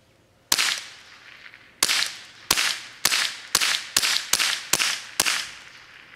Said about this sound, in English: I'm gonna go ahead and unload this 22 into that laptop and see what happens